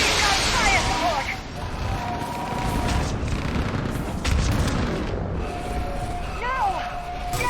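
Heavy gunfire and booming fire support in a Mass Effect battle, dense and continuous with rumbling blasts, while voices shout over the combat.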